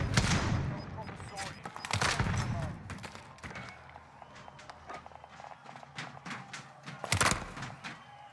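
Gunfire in the shooter Call of Duty: Warzone: scattered sharp shots and short bursts mixed with footsteps and movement, a louder cluster near seven seconds, while players talk.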